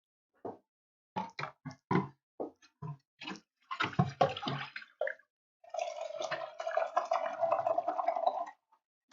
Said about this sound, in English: And I'm going to wash these brushes off.